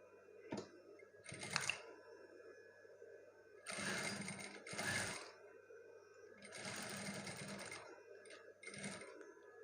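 A sewing machine stitches a woven-fabric tunic in several short bursts of rapid, buzzing needle runs, close and moderately quiet, separated by pauses with small handling clicks.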